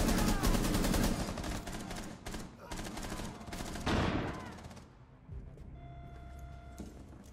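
Rapid automatic gunfire in Rainbow Six Siege, shooting out a trap: a long burst of close, loud shots, a brief pause, another heavy volley, then the firing trails off into quieter mechanical clicks and a steady electronic tone.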